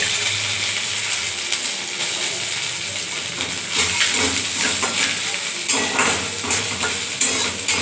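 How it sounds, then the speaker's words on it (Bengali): Grated coconut frying in a pan for a Bengali puja-night dinner, with steady close sizzling and hissing under the scrape and clatter of a spatula stirring it around. There is no talk. "আমি এখন নারকেলটা ভেজে নেব আগে।"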